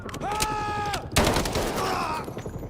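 Rapid bursts of gunfire in the Delta Force game campaign, dense crackling shots in quick succession, loud and close, with game sounds mixed in.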